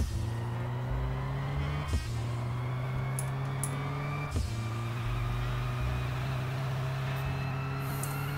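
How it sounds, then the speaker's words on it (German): Continuous droning truck engine from the video game Airport Service Simulator, a steady low hum with slight revving shifts and a couple of brief clunks, moderately loud and alone. "der Sound von dem Truck hier, der regt mich am meisten auf"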